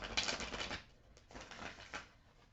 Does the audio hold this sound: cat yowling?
no